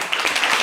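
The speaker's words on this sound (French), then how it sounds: "Applaudissez pour Nyoleba" A crowd at a live show gives a brief burst of steady applause, dense overlapping claps filling the moment at close range.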